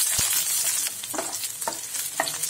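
Onions, dried red chillies and garlic sizzle and crackle in a hot pan, with a few sharp scraping stirs and clinks cutting through the steady frying hiss.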